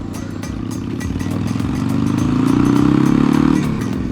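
A Harley-Davidson Sportster motorcycle's engine and exhaust rumble loudly and up close while riding through a New York City park, the deep throbbing note swelling steadily as the bike pulls along.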